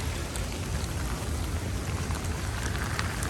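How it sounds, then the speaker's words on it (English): Heavy rain pours onto a hiking trail during a thru-hike of the Potomac Heritage Trail, a dense, steady close-up hiss of drops with no letup. "There's that thick rain, folks."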